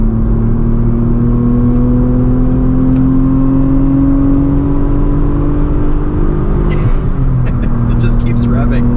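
A 1995 Ford Probe GT with a five-speed manual, its engine revving steadily and droning loud inside the car while driving, the pitch climbing and then dropping at a gear change, with people talking over it.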